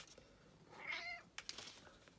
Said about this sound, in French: la Noisette miaule comme ça quand elle est contente